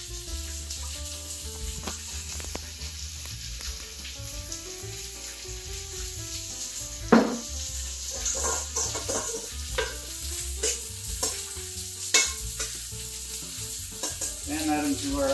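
Mushrooms fry in olive oil in a grill pan with a steady loud sizzle, stirred now and then with scraping clatters of a utensil against the pan.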